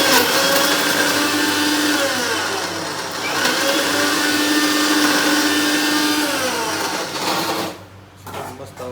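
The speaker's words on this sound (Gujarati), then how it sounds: "આ મિક્સરની અંદર આપણે કરવાનું છે આને ભૂકો મિક્સરની અંદર ભૂકો થઈ જાય" A home kitchen mixer grinder pulverizes ingredients into powder for laddoos, a loud, close, continuous motor whine that runs steadily for several seconds before cutting off abruptly near the end.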